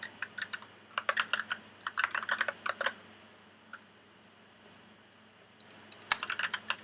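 Typing on a computer keyboard: close, crisp key clicks come in quick clusters, pause for a few seconds, then resume in another short burst.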